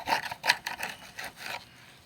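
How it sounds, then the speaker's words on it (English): Stuck debris is scraped out of a van's roof gutter in a few short, rough rasping strokes, close by and fairly quiet, with no voices. "You can scrape a lot of it out."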